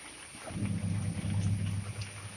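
Steady rain falling with a low rumbling undertone, a continuous wash of sound with no voices.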